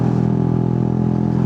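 An old-model Yamaha Sniper 150 motorcycle cruising steadily on a ride to Baguio, its mid-pitched engine droning continuously and close with dense harmonic hum and no talk.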